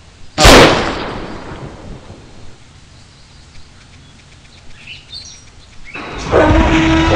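A single loud, sharp gunshot cracks out near the start in a mobile animal hunting game, decaying over about a second into a quiet ambience before another abrupt sound at the end.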